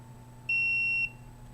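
A single steady electronic alarm beep sounds for about half a second when a phone is activated inside a home unit, a clear tone standing out over a quiet room background.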